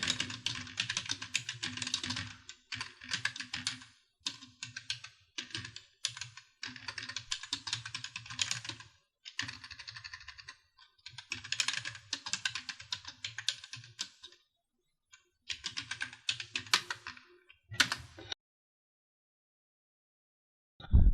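Fingers type in quick bursts on a computer keyboard during accounting data entry, close clicking clatter broken by short pauses and a longer silence near the end, with a final sharp key thump.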